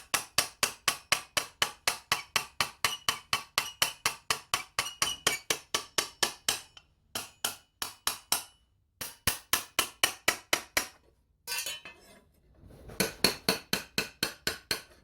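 A hammer taps steadily along an armour edge to roll a D-style hem. It lands many quick, light, ringing metallic hits in fast even runs, with a few short pauses between runs. The sound is close and there is no talk.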